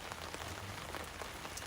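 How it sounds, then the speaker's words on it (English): Rain pattering steadily on a surface at an outdoor property auction, a dense, even hiss of drops, faint and constant without talk or thunder. "it is raining and you can hear the thunder as well"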